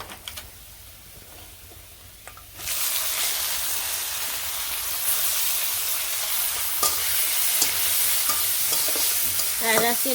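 After a quieter opening with faint clatter, chopped potatoes go into a pan of fried onions and the oil bursts into a loud, steady sizzle that continues close by, with scattered stirring clicks.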